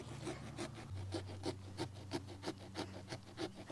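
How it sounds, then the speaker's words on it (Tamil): A knife saws into a hard pumpkin being carved for Halloween, giving close, quiet, rhythmic rasping strokes of about three per second with a faint steady hum behind. "நான் வந்து இதை வந்து இப்படி கட் பண்ணி தரேன், ஏன்னா இந்த போர்ஷன் ஹார்டாக இருக்கும்."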